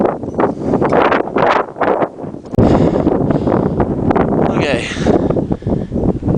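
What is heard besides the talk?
strong wind during mountain trek in Nepal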